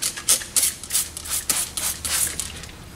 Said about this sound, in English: I'm going to go ahead and spray